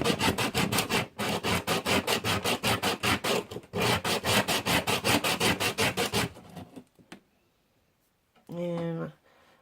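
A rock's back is scratched to roughen it, giving a loud, close, rapid rhythmic rasping of many short strokes that stops abruptly, followed by a brief spoken voice.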